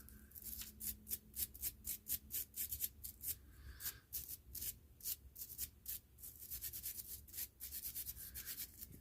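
A wire brush scrubs surface rust off a 1950 Hubley Army 45 metal cap gun in rapid, rhythmic rasping strokes, close and fairly quiet, in bursts with brief pauses and no talking.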